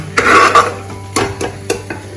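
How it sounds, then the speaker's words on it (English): Marinated mutton tipped into a pot of hot oil for a mutton curry in a pressure cooker, then stirred: a few close scraping, clattering stirs with a soft sizzle beneath, no talking. "The marinated mutton goes in and we will mix it well."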